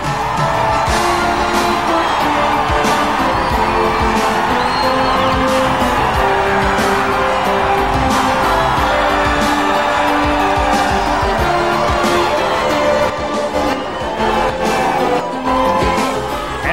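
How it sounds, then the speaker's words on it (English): Throngs of roadside fans cheer a pro cycling race winner, a loud continuous roar of whoops, yells and clapping that holds steady throughout, with traffic noise mixed into the din. "Lance soaks in the applause of the throngs of fans, including his mother, who have come to see him win"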